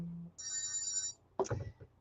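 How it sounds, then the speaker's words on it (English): An incoming call on a telephone rings once as a bright, steady electronic tone lasting under a second, after which a voice is heard speaking nearby. "Somebody's calling me from Michigan right now, but I don't know who it is."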